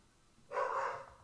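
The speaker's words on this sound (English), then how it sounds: "Yeah, dog is freaking out." A single short, muffled bark from a dog somewhere in the room, faint and off to the side in otherwise quiet surroundings.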